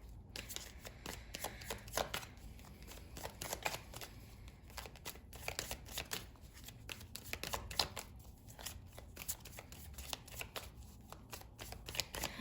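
Tarot cards shuffled by hand at close range, a quiet run of soft riffling flicks and taps repeating steadily with no talking.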